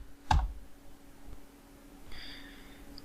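A computer mouse gives one sharp, close click, followed by quiet room tone and a faint electronic tone, with no talking.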